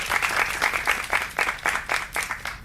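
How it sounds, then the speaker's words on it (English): Scattered rhythmic clapping from a small audience in a theater aboard a Disney cruise ship, sounding like a handful of people applauding a panel, with a steady beat of roughly two to three claps a second, close and moderately loud. "let's give them another round of applause."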